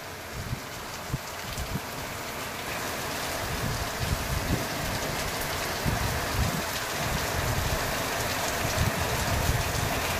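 Heavy monsoon rain pours over waterlogged farm fields in Chandwad, a loud, unbroken roar of downpour with scattered heavier drop impacts and no voices.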